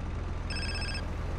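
A phone rings inside the video game GTA San Andreas, a short electronic trill standing out briefly over a steady low background hum, with no talking.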